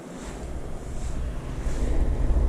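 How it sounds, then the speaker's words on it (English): Waves from a boat wake washing around a pedal kayak on open water, a steady low wash and slosh with wind rumbling across the microphone. "you want to make sure that you are facing the wake so that the kayak will ride the wake"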